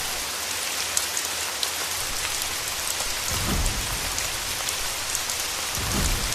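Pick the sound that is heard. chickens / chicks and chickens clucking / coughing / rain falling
rain falling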